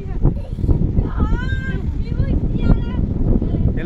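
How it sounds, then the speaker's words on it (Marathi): Strong sea wind from the coast buffets the microphone at a Konkan zipline spot, a loud continuous rumbling roar while people talk over it. "अरे हा समुद्राकडून वारा येतोय"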